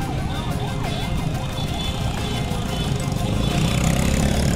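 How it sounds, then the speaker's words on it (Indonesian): An ambulance siren wails in repeated rising and falling sweeps over steady traffic rumble, heard from a 250cc motorcycle, fairly close and continuous throughout. "Ada ambulan."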